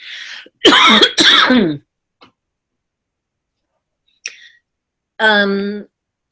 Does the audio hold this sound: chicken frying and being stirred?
no